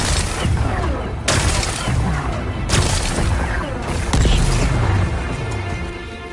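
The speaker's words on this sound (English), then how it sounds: "It's exploding." Explosions in a PS4 game as rocks are blasted away to expose a power cell: several loud booming blasts with crackling, gunfire-like bursts, spaced a second or so apart over continuous game noise.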